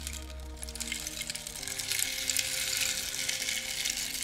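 Steady, hissing rainfall fills the background at moderate level, an even patter continuing throughout beneath soft sustained musical tones.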